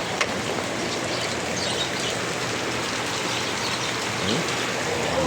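Heavy rain pouring steadily onto a vegetable garden, a dense, even hiss of drops drumming on leaves and soil that continues unbroken at close range.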